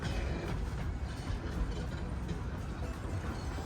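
A miniature train on the Romney, Hythe and Dymchurch Railway rumbles steadily along with a continuous low rolling noise and faint rhythmic clatter, no voices.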